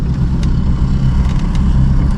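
A motorcycle engine rumbles close and steady, a loud continuous idle with a low, even throb and no other sounds over it.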